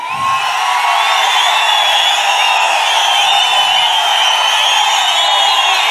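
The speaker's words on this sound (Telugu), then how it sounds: "మీ చప్పట్లే చెప్తున్నాయి మీ ఆమోదాన్ని." Dense crowd at an outdoor political rally, a steady wash of applause and cheering held at even loudness throughout, with scattered shouts mixed in.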